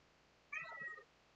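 A house cat gives a single drawn-out meow, faint and somewhat distant, against a quiet background hum.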